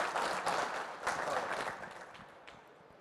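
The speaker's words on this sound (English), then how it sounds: "And one more round of applause for our runner-up, Jelle van Kampen." A burst of applause from a crowd at the Pokémon Dortmund Regional Championships, clapping loudly at first and then thinning out and fading over a few seconds.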